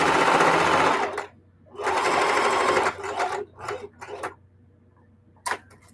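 A sewing machine stitches quilted jellyroll placemats in close, loud bursts, with two long runs and then short stops and starts, plus a few light clicks.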